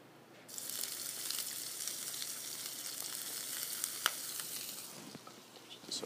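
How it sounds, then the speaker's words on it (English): Fresh lobster sizzles steadily in a little olive oil in a pan, a dense continuous crackle starting abruptly and holding near and loud throughout with occasional sharper pops. "I'm going to add in my fresh lobster."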